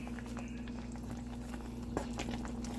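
Butter going into bubbling pecan brittle syrup at the hard crack stage gives a soft, steady simmering bubble over a constant hum, with a brief sharper burst near the middle.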